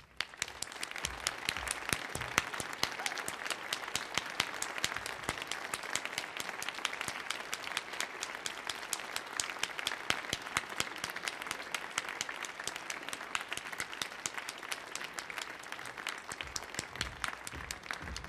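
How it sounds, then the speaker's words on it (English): A concert audience at the Millennium Stage applauds the performing artists with dense, sustained clapping that stays steady and full for about eighteen seconds, with no voices over it. "give a very, very, very warm round of applause for these wonderful artists"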